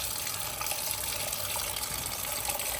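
Water pours from a threaded tub spout with a spring-loaded diverter, a smooth, even, steady rush close by with no talking.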